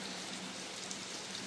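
Heavy rain pours down steadily, a dense, continuous hiss filling the scene at a home, with no breaks or other sounds.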